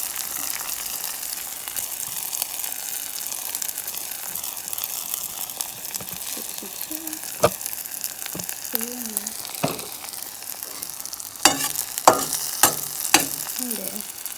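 An egg omelette with collard greens frying in a pan sends up a bright, constant hiss. Faint, brief tones flicker through it, and a run of sharp utensil clicks near the end stands out.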